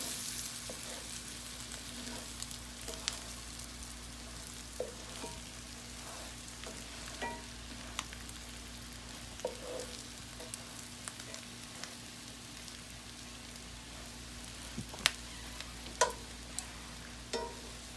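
Salmon croquettes fry in butter in a pan, a low steady sizzle with soft scattered pops and crackles throughout.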